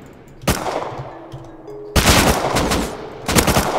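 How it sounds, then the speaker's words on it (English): AK rifle fire in the survival game Rust cracks out in three loud rapid bursts, each ringing and echoing briefly before the next, with no talking. "Oh, there's an AK shot."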